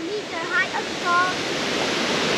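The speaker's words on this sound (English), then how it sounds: "what is the name of this waterfall?" Kynrem Falls, a tall waterfall in Meghalaya, roars as a steady broadband rush in the open air, with faint bird chirps and brief voices near the start.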